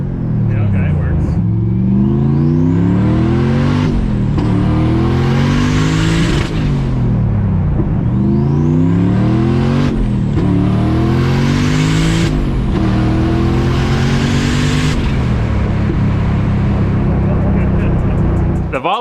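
Tuned Volvo sleeper car accelerating hard with turbo boost, loud rising engine roar through several gear changes with repeated upshifts, heard from inside the car, occasional voices underneath.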